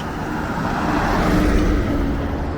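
A school bus rolls past on a road in Koforidua, Ghana: a loud, close, continuous engine-and-tire rush that swells slightly midway, with no voices.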